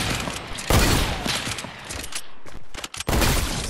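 Rapid bursts of gunfire in the Fortnite video game, with dense repeated shots and loud blasts that drop out briefly and then resume.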